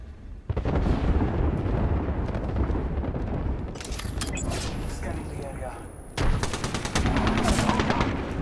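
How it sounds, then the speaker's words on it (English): An artillery strike pounds down in the video game Apex Legends, with heavy blasts and rapid gunfire rumbling loudly and almost continuously while players talk over the chaos. "Oh no! Artillery strike inbound!"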